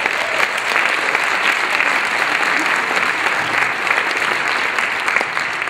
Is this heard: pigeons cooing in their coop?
no